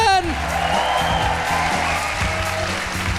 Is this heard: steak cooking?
no